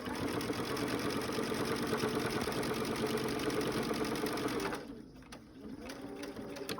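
A sewing machine runs steadily while stitching quilt binding, a close, loud, continuous rapid whir and needle chatter that stops abruptly near the end, followed by quieter handling clicks.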